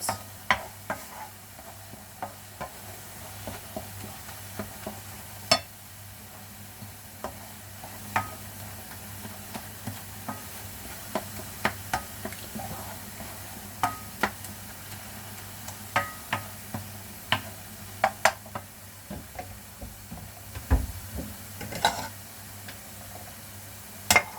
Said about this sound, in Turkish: Şimdi tarçını karıştırıyorum ve kapatacağım.